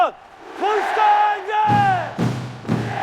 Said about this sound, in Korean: 지금 들리는 이 꽹과리 소리와 투쟁 함성